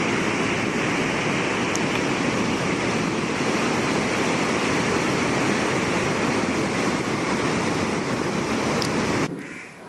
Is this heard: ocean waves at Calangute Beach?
yes